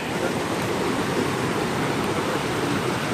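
A fast mountain creek rushes loudly along the Coomera Circuit bush walk at Binna Burra. It makes a steady, close, unbroken roar of water that fills the whole moment with no breaks.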